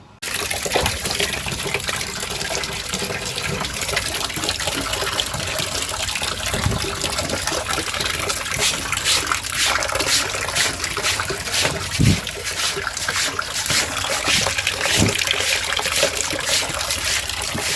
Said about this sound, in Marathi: चला मग आपण कपडे धुवून घेऊयात अगोदर, म्हणजे मग पुढची कामं आपल्याला करता येतील